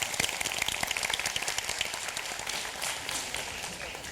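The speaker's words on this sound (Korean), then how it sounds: "박수 한번 칠까요?" Applause from the audience at a high school team debate final, brisk individual claps close by that merge into a dense patter, gradually settling to a softer, even clapping by the end.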